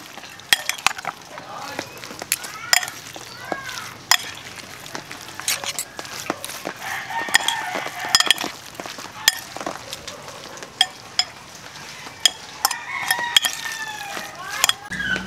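Ngo hiong lumpia filling of celery, spring onion and egg being stirred in a bowl: sharp scraping clicks and clinks come in an irregular rhythm, close and fairly loud, with a voice faintly present.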